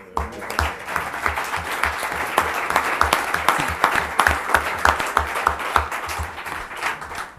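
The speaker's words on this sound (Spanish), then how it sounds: "un aplauso a Alex." A crowd at a conference forum applauds with dense, sustained clapping that holds steady and then begins to thin out toward the end.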